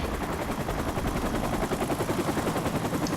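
A helicopter's machine gun fires in a video game, a loud, steady rapid stream of shots lasting the whole moment, heard alone without talk.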